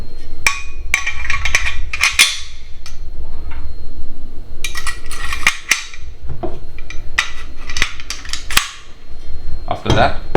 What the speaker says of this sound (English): we use different bolt, and put the 223 bolt in